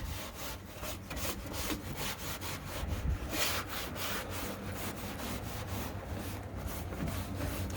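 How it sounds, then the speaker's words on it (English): A rag rubs and wipes paint off a piece of distressed rustic furniture in quick, even back-and-forth strokes, a close, steady scrubbing with no voices. "I'm taking my rag and just going through and wiping."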